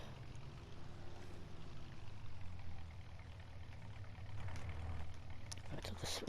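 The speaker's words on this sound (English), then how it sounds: "I'll just switch that engine off a moment." A farm vehicle engine runs steadily at idle, giving a continuous low rumble that carries through the whole stretch, with a few brief clanks near the end.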